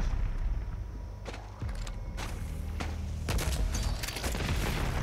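Gunfire in the video game DOOM Eternal: several sharp, booming shots ring out over a dense, noisy combat background, loud and close.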